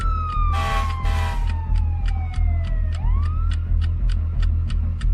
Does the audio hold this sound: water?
no